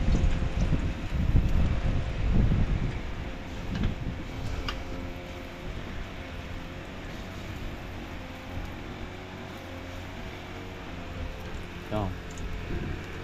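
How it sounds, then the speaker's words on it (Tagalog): Steady wind rushes outdoors beside a rice field near a house, blowing as a constant broad roar that is strongest at the start. Someone talks faintly beneath it. "Ang hangin."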